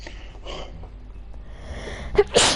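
A single close, sharp sneeze bursts out near the end after a quiet stretch of faint background sound.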